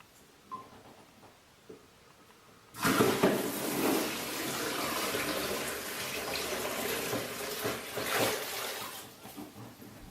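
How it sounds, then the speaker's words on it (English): Water from a bath tap suddenly gushes into a container after a quiet start, then runs as a loud, steady splashing rush until the end. "I'm going to fill up the water in here with water from the bath"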